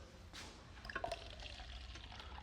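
Very faint pressurized water runs from a batch cocktail dispenser tap, a soft liquid trickle with a few small splashes and drips under low background hiss.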